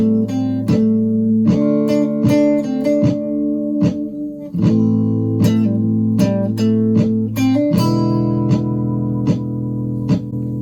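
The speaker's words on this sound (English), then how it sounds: "just kind of wandering through the scale over the top of my backing track" Lead electric guitar notes wander through a scale over a steady backing of chords and drums looped with a looping pedal, the solo line clear and upfront throughout.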